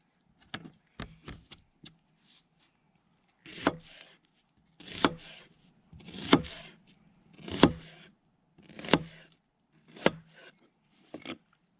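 Sweet yellow onions are chopped with a knife on a board at a campsite. A quick run of light taps comes first, then a slower series of heavier rhythmic chops, close and crisp.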